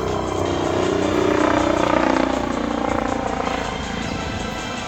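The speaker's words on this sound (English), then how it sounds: "It's a helicopter." Loud helicopter passing overhead outdoors, a steady low rotor drone that swells toward the middle and stays strong throughout, with no talk over it.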